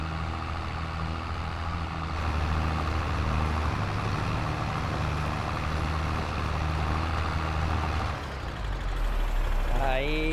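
Engine of a small Agrale tractor in Farming Simulator 22, a steady low drone that holds through the clip and shifts pitch near the end as it revs up.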